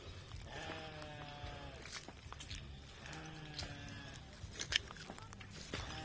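Goats bleating on a rural rambutan fruit farm in Capas, Tarlac, several wavering cries repeated through the clip at moderate distance, with faint footsteps and background murmur.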